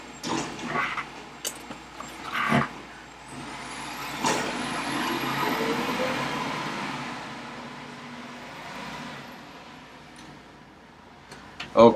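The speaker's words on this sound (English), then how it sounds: "There's a dump truck out front, and it's going to be very noisy for the next minute or two." A dump truck rumbles outside the building, a low muffled engine drone with occasional air-brake hisses and clanks, heard from indoors at a moderate distance.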